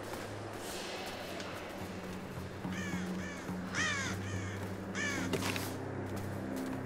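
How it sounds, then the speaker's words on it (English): Crows in the video game Tomb Raider give several loud harsh caws in short bursts over a steady low rumble of ambience. "Can I shoot the birds?"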